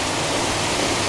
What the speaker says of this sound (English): I'm currently under a bridge next to one of Alston's lovely waterfalls.